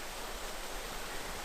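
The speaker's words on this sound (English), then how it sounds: "And my favorite little waterfall." Small waterfall in damp foothills woodland, a steady close rush of falling water with constant broadband hiss and no pauses or voices.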